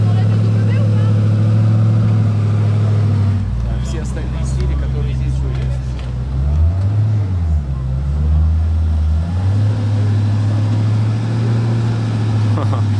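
A Koenigsegg CCR driving in Monaco, its engine a loud, deep, steady drone that dips and swells briefly mid-way, with people talking over it inside the car.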